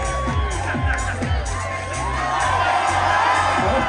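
A beach bar crowd at a summer bikini contest in St. Pete Beach, Florida cheers for a contestant, a dense roar of shouts, whoops and whistles sustained loudly throughout.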